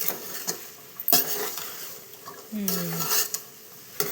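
Prasadam mixture being stirred in a pot, with a few scraping clinks of a spoon against the metal and soft rustling movement, close and moderately quiet, with brief voice sounds in the background.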